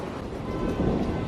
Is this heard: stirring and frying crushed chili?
no